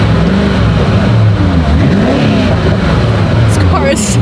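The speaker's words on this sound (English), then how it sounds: "This car is so loud." A stock hypercar's engine revs loudly from close inside, a continuous roaring drone with rising and falling pitch sweeps through repeated throttle blips, and a voice talks over it.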